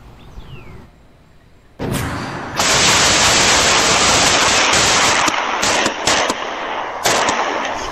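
Heavy gunfire erupts in a shootout at a house, with dense, rapid bursts of loud shots that run almost continuously for several seconds after a quieter opening.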